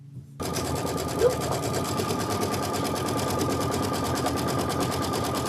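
A Kimberbell embroidery machine stitches a tack-down line, starting abruptly and then running as a steady, fast mechanical chatter of needle strokes, close and continuous, with a brief faint bump early on.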